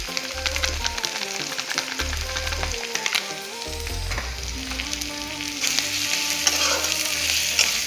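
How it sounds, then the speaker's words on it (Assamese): Cumin seeds frying in a small amount of oil for an Assamese mutton curry, a steady sizzle with stirring scrapes and clinks of a spatula in the pan, close and continuous. "তাৰপিছত জিৰা দি দিম অলপ। ভাজি দিলে জিৰাটো ভাল এটা গোন্ধ ওলায়।"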